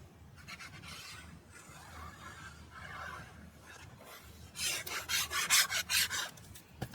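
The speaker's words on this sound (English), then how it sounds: "I'm going to burnish it from this side because it's easier." Paper is burnished onto a page of a Stamperia New England wedding craft album with a rubbing tool, soft scraping at first, then a close run of quick, louder rhythmic rasping strokes.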